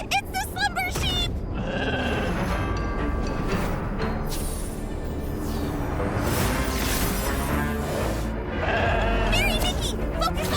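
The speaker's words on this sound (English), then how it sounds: "Ah, it's the slumber sheep!" Slumber sheep in the video game Infinity Nikki bleat over a busy, loud game soundtrack with swooshing effects, with repeated wavering cries rising and falling throughout.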